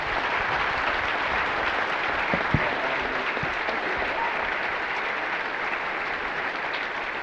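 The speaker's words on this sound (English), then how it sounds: "let's give a nice round of applause to Pomai for finishing us off" A summit audience applauds a speaker, a broad, continuous roar of clapping from many people that stays steady and full throughout.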